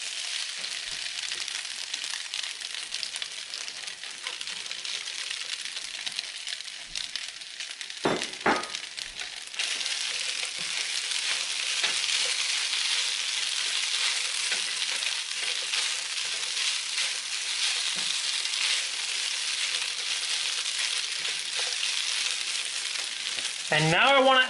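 Bacon frying in a pan makes a loud, continuous sizzle. The crackle is steady throughout, with a brief clatter partway in and a short clunk at the end.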